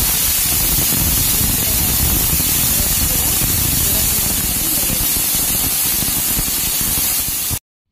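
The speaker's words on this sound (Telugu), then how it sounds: "కూరగాయలన్నీ పెట్టుకున్న ప్రెషర్ కుక్కర్లో పెట్టుకున్న తర్వాత దీనికి 2 విజిల్ వస్తే" Pressure cooker hissing out steam while radish sambar cooks inside: a loud, steady rush of spray-like noise that holds unbroken for nearly eight seconds, then cuts off abruptly.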